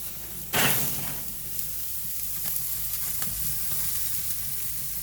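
A tomahawk steak searing over the flames of a Weber Summit charcoal grill makes a constant close sizzle and hiss, opened by one sharp clatter near the start, with no voices.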